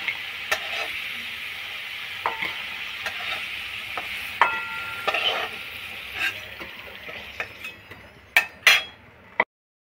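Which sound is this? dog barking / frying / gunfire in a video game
frying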